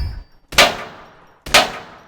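Two sharp metallic gunshot bangs in a Minecraft SWAT shooting game, evenly spaced about a second apart, each with a ringing decay.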